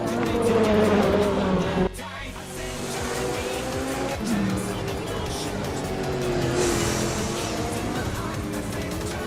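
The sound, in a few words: race cars in video game Assetto Corsa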